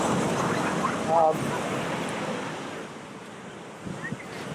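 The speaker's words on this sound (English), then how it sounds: "Now we get the crashing waves." Ocean waves wash onto the shore at a river's end, a steady broad roar with wind noise, heard at moderate distance with no clear talking.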